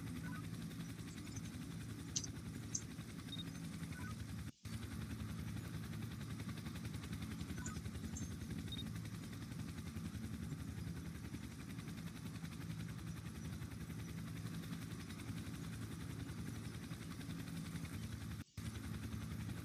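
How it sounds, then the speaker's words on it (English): Police helicopter hovering overhead in the game City of Winnipeg, a steady low rotor and engine drone that stays constant and fairly close throughout, broken only by two brief dropouts. "I think he just realized that there's a helicopter over him."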